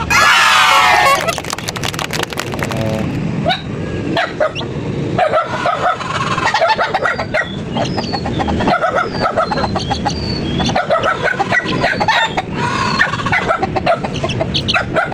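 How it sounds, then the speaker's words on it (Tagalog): Alimbuyugin broodcock and Melsim black hen with their newly hatched chicks: close, busy clucking and repeated high peeping calls over a steady farmyard backdrop, with a rooster-like call near the start. "Ito na pala yung sisiw ng alimbuyugin ko na nanay Melsims"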